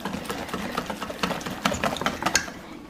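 Vigorous whisking of batter for a peach Dutch baby, a rapid run of close, light clicking and scraping strokes against a bowl that continues steadily with no voices.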